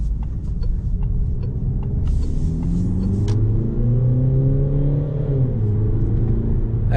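Peugeot 3008 GT Line diesel hums steadily while driving, a moderate close engine drone that climbs gently in pitch as it pulls, then eases, with faint cabin clicks early on.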